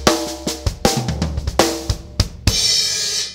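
A drum kit plays a fast fill of 16th-note and 8th-note triplets with hits on drums and toms, close and loud, ending on a ringing crash cymbal.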